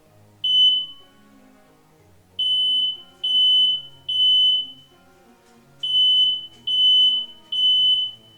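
A smoke detector chirps in repeated high, piercing beeps, seven bursts of about half a second each in an irregular pattern. It is fairly loud and close, with faint room noise underneath.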